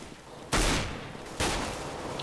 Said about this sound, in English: How many times do I have to shoot someone?